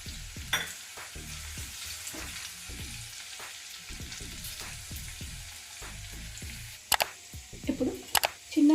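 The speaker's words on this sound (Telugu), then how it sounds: "అల్లం వెల్లుల్లి పేస్ట్ కొంచెం పచ్చి వాసన పోయే వరకు వేయించుకోవాలి" Ginger garlic paste and a bay leaf frying in hot oil, a soft steady sizzle broken by repeated scraping and stirring strokes, with a few sharper clatters near the end; no talk.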